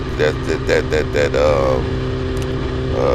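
Motorcycle engine riding in the rain, throttle softened with the clutch, giving a steady near drone with several short revving pulses early on before settling; no one speaks.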